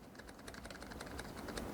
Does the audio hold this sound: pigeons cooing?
no